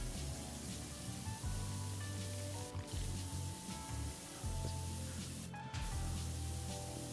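A pressure washer sprays in the video game PowerWash Simulator, giving a continuous broadband hiss over a low, wavering hum, fairly quiet and with no talking.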